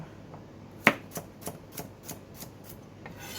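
A knife chops vegetables on a board in a steady series of about eight crisp, evenly spaced cuts, the first the loudest.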